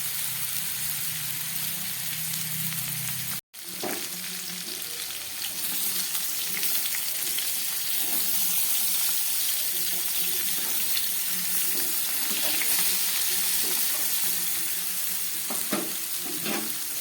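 Green jackfruit pieces frying in hot oil make a continuous crackling sizzle, with occasional spatula scrapes and stirs breaking through and a momentary dropout early on.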